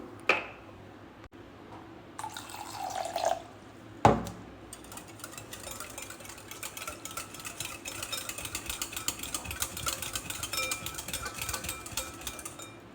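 Water is poured into a salted batter for a brinjal dish and stirred until it loosens. A brief splashy pour comes first, then a knock, then a steady, wet, squelching stir that continues close by and fairly quietly.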